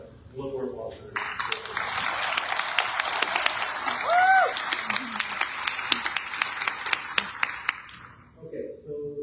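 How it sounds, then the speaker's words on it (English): Audience at a school board meeting bursts into applause that swells for several seconds, close individual claps standing out, then fades; a brief voice and a few cheers rise mid-clapping, with quiet speech before and after. "one more applause for them."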